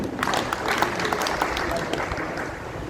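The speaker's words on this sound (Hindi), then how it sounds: "इनके लिए तालियां बजाइए।" A crowd applauds steadily, many hands clapping together in a dense, sustained patter without pause.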